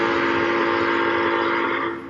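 A single long, steady train whistle blast sounds loud and clear for about two seconds, then tapers off at the end, with nothing else heard.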